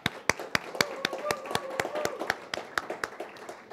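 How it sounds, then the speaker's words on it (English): Sparse applause at a journalism awards ceremony, where a few people clap in an uneven rhythm with distinct sharp claps, and faint voices sit underneath. "Another round of applause for Councilman Menchaca"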